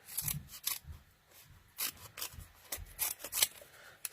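Scissors snipping through card for a quadruple slider card, a run of short crisp close cuts in an uneven rhythm, quiet and alone without talk.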